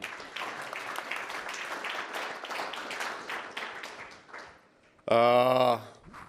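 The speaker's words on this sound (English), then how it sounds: "we can give you a round of applause, perhaps, for being here" An audience at the Munich Security Conference gives a round of applause, steady clapping that gradually thins out over about five seconds. A short, loud tonal sound follows the clapping.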